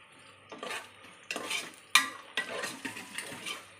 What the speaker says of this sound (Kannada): ಎಲ್ಲ ತುಂಬ ಚೆನ್ನಾಗಿ ಫ್ರೈ ಆಗಬೇಕು ಚೆನ್ನಾಗಿ ಫ್ರೈ ಆಗಿದೆ